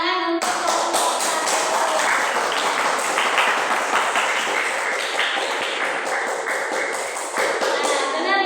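A classroom breaks into applause for a group of students, many hands clapping in a dense, steady burst that carries on for several seconds.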